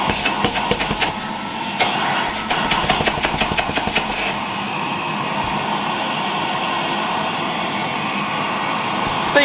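A Czechoslovak Tiger 808 vacuum cleaner runs at full power at about 220 V, a loud, steady broadband roar with rapid fluttering in the first few seconds and no talking.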